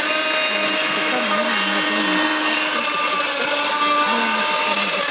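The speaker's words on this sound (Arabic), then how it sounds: "كندير في الخلاط شويه شويه حتى نتحصل على هاد الصوص ديال المطيشه" A kitchen blender runs steadily, whirring through thinly sliced onion for a Moroccan couscous sauce; someone speaks over the continuous motor drone as it blends.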